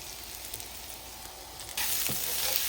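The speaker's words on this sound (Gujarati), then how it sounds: "પછી આપણે સોતે કરી લઈશું." Capsicum sizzles in hot olive oil with salt, chili flakes and oregano; a soft steady fry grows suddenly louder and brighter partway through as the pan hisses, with a brief stirring scrape, no voices.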